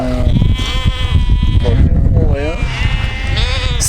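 Goats and sheep bleat loudly and repeatedly in a herd in the Tajik mountains, several close wavering cries overlapping with someone talking.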